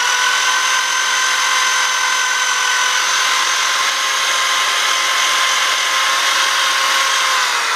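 An angle grinder fitted with a wire brush scours a metal wheel during prep for paint, giving off a loud, steady, unbroken whine and hiss with no talk.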